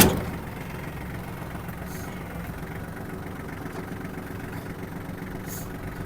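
A Kubota GL-201 compact tractor engine idles steadily, a low continuous rumble with even rhythmic knocking, close and unchanging throughout.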